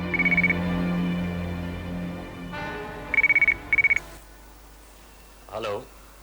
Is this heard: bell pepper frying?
no